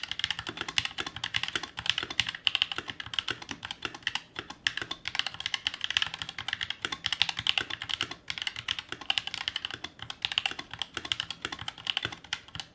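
Steady typing on a wired Redragon K617M Fizz mechanical keyboard fitted with Mag Pink switches, a close, continuous stream of light clacky keystrokes with irregular rhythm and no talking.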